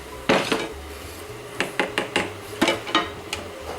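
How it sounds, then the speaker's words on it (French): A spoon stirs masoor tadka dhal in a frying pan, giving a series of scattered metallic clinks and scrapes against the pan. They come in uneven bursts, fairly close, with no talk. "on va bien mélanger tout cela"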